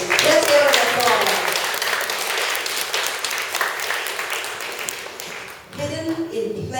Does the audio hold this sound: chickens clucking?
no